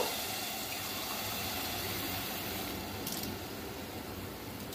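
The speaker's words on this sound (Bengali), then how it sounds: "দিয়ে দিচ্ছি মেপে জল, যতখানি চাল নিয়েছি তার ডাবল জল নেব" Water poured steadily into a pressure cooker holding soaked rice for paneer biryani, a continuous near gushing stream with no talk.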